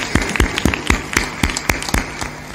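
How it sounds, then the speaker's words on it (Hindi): An audience claps for a devoted family at a devotional gathering. The clapping comes as a run of sharp, fairly evenly spaced claps over a steady background murmur. It sounds like a modest crowd in a hall, and no one speaks over it. "ताली बजा दो एक बार इनके सम्मान।"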